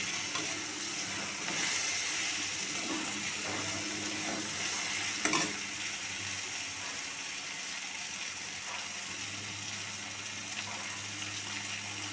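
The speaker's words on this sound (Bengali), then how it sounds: "শুধু একটু জিরার গুঁড়ো দিয়ে একটুখানি নাড়াচাড়া দিয়ে সবজিটা নামিয়ে দেবো" Vegetables such as spinach, beans, potato and eggplant stirred with cumin powder in a pan, a continuous soft sizzle with occasional scraping stirs and one brief clatter, close and steady, no voices.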